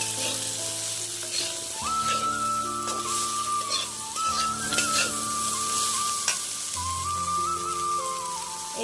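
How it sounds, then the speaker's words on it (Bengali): Vegetables sizzle and fry steadily in a pan with salt and turmeric, a continuous close hiss broken by stirring, with a faint whistle-like tone running through. "আর দেবো অল্প পরিমাণে হলুদ দিয়ে আমি আবার একটু ভালো করে নেড়ে করে ভেজে নেব"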